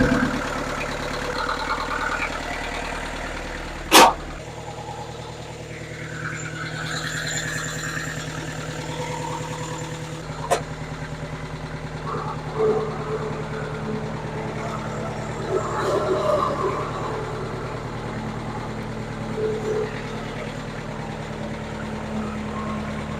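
A scrap burnt Bobcat skid steer revived after sitting, its engine idling steadily and rumbling throughout, with a couple of sharp clanks and some brief rises in the running sound.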